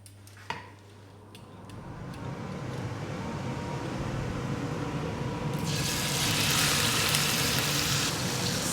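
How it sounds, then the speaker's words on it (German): Steady broadband sizzling of roast beef searing in hot oil, rising louder partway through as a loud fan-like hiss joins in; a brief clatter near the start. "das Fleisch einfach von allen Seiten anbraten"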